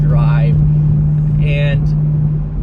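Engine of an older analog car heard from inside the cabin, a steady low drone running throughout with someone talking over it.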